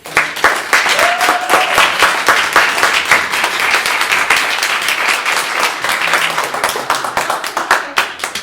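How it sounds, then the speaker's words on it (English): Loud, close applause and rhythmic clapping from an audience at a school board meeting, continuous throughout, with a brief voice heard early on. "Can we please give right now a huge round of applause to"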